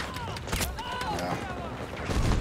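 Gunfire from a Battlefield 2042 match comes as a few sharp close shots in quick succession amid game noise and a player's voice, ending in a louder thump.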